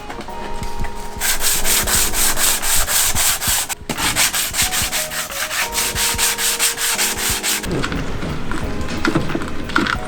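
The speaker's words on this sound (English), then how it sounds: "this looks like just factory black, so I'm just gonna scuff it up" Factory black paint on a Nissan Silvia front bumper being scuffed by hand, close, loud rhythmic rubbing strokes in quick back-and-forth bursts, pausing briefly partway before the scrubbing resumes, with no talking.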